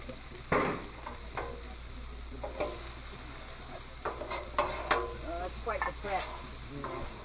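Egg being stirred into fried rice on a Blackstone griddle: a spatula scrapes and clicks against the hot steel in irregular strokes over a soft steady sizzle, close and fairly quiet, with faint talk in the background.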